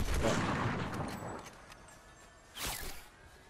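Fortnite gunfire in an online match, a brief burst of distant mechanical shots and a clattering impact, with a second crack near the end against quiet game ambience.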